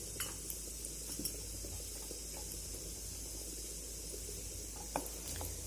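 Coriander, urad dal and methi stir-frying in coconut oil, with a steady soft sizzle throughout and a few light scraping clinks of a utensil against the pan, fairly faint and close.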